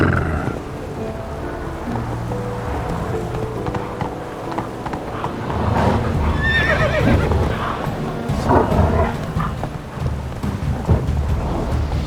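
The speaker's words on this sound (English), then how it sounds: "That's his horse." A horse in the video game The Witcher 3 neighs and whinnies loudly and close, with snorting and hoof movement over a low rumbling ambience, and no talk.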